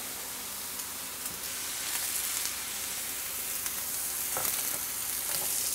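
Cheese-topped bread for a Reuben sandwich sizzling in a hot pan, a steady close hiss of frying fat with faint crackles and no talking.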